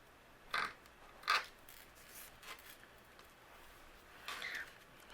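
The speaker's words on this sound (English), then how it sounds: "And I'm going to just use my tape runner." A tape runner presses adhesive onto a handmade card, giving three short, quiet scratchy rasps spaced apart over a faint background.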